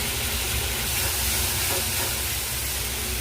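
Onion, garlic and chili paste sizzles steadily in a pan over melted tomatoes for a mushroom curry, a constant close frying hiss with no voices.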